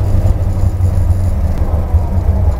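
A 598 cubic inch big-block Chevrolet Nova cruising around 40 mph in second gear at about 2,000 rpm through mufflers, a steady, heavy low rumble filling the cabin without pause.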